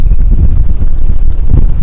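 Strong wind buffeting an outdoor microphone on a fishing trip, a loud continuous low roar and rumble that fills the whole moment with no other sound standing out.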